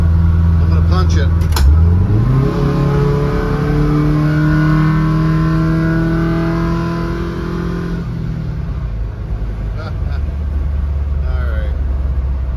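A VW bus fitted with a Subaru engine accelerates hard, its engine note climbing steadily through the gears, loud and close from inside the cabin with constant road and wind roar.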